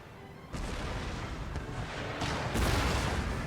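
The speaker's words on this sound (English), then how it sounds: "Oh, our guns firing. Yes, they're just about to fire again." Ship cannons firing during a naval battle in Empire: Total War, heard as heavy booming blasts that overlap into a continuous rumbling barrage, growing louder toward the end, with no talking.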